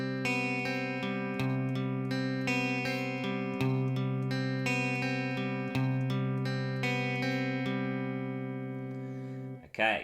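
An electric guitar plays the intro pattern of a song, a six-note figure repeated four times in clean ringing tones, then fading out at the end.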